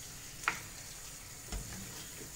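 Beef hitting a hot pot for a stir fry, giving a quiet, steady sizzle and crackle of frying with a sharp clink near the start and a soft thump midway, no voices.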